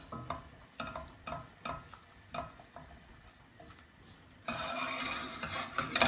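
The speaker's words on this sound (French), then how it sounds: "On met notre 40 g de farine d'un coup. On mélange bien." Forty grams of flour stirred into melted butter in a pan, with rhythmic scraping strokes over a soft sizzle that swells into a louder, steady frying hiss near the end. Close and with no voices.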